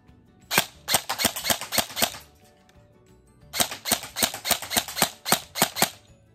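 An MK18 MOD1 airsoft AEG with electric blowback fires on semi-auto in two close, loud strings of sharp cracks, about eight quick shots, then a pause, then about ten more, each with a snapping bolt cycle.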